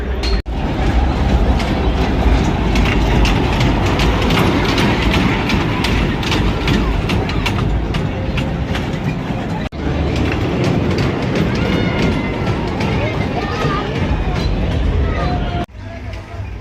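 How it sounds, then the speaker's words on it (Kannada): A train rolls past during the Huskur Madduramma festival near Bangalore, a loud, sustained rumble with rhythmic rail clatter close by, mixed with crowd babble and voices throughout. "ಇದೇ ಟ್ರೈನ್."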